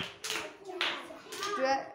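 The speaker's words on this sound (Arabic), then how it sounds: "أسمع قوة تصفيق" Young first-grade children clapping together in a classroom during a maths lesson, several short bursts of applause with children's voices and chatter between and under the claps.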